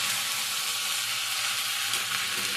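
Boiled Dehradun rice is stirred in a hot frying pan while cooking polao. A loud, continuous sizzle fills the clip, with faint scraping and stirring under it and no pauses.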